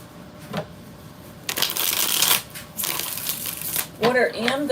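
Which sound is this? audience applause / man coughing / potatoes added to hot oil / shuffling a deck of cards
shuffling a deck of cards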